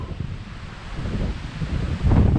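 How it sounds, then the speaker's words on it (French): Strong stormy wind buffets the microphone at Lake Vouglans, a continuous low roar with gusts that swell louder near the end, and no one speaking. "On va s'abriter du vent parce que c'est la tempête"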